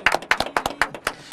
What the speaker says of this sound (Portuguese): Aplausos pra eles aqui no time masculino.